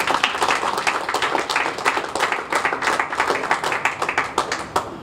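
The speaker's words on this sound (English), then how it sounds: "That deserves a round of applause, ladies and gentlemen." An audience applauds at a public meeting about on-street homelessness in West Palm Beach, a dense, steady clapping from many hands that keeps going evenly without cheering.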